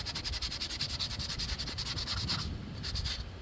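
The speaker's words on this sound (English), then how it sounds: "It's just gonna require a lot more sanding." Sandpaper rubs over the paint on an Aerotech Arreaux model rocket in quick, even back-and-forth strokes, close and steady, with no talking.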